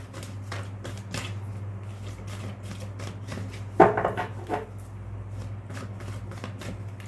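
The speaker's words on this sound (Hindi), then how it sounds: "Let's start shuffling here." A deck of tarot cards gets shuffled close by in rapid riffles and soft flicks, a steady patter broken by one sharper burst of card slaps midway, over a low hum.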